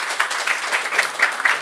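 Brief audience applause during a Thai nutrition seminar, a steady crackle of many clapping hands lasting under two seconds with a few louder individual claps standing out.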